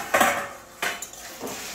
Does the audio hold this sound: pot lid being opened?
yes